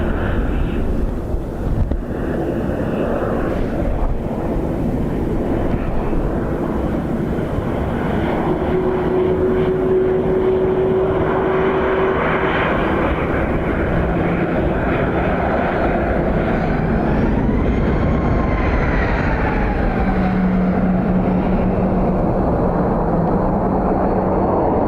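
Airliner engines roar as a plane lands at Dublin Airport on a windy day, a loud sustained rumble with gusty wind noise on the microphone and a shifting whine as the aircraft passes.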